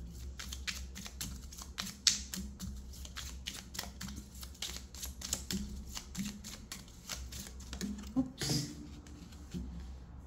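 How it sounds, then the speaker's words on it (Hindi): Tarot cards are shuffled by hand in quick, uneven bursts of soft riffling and tapping, close and fairly quiet, with a few sharper clicks. "पहले अच्छे से शफल करेंगे कार्ड्स को"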